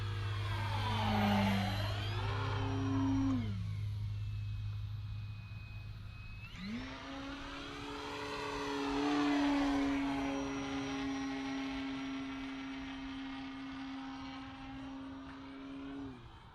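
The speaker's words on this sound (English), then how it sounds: "Just a great flying plane." An FMS Ranger 1800mm RC propeller plane flies overhead, its motor whine rising and falling in pitch as it makes two swooping passes, then settling into a steady drone, with no talk.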